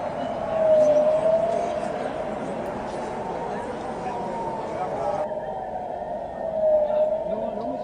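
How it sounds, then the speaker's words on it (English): Rocket alert sirens wail steadily at a distance, their tone swelling twice, over a dense, rumbling background wash. "We're definitely hearing rocket sirens."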